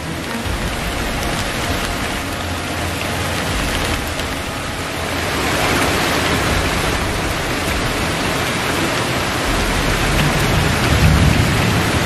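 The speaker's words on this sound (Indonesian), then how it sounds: "karena takut keburu hujan, ini juga udah hujan" Steady, heavy rain falls in a dense, continuous hiss that swells slightly partway through, with no voices.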